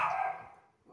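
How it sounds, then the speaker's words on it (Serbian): A dog lets out a single short, close bark that fades quickly, with the start of another yelp at the very end. "kuco, šta galaviš toliko, neću ti ja ništa"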